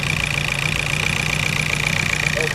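A car engine idles close by, a loud steady rumble with an even low pulse and a constant mid hum throughout.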